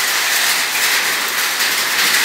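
Loud, steady clatter of hail falling heavily during a rainstorm in Aparecida de Goiânia, Brazil, a constant dense rushing hiss that never lets up.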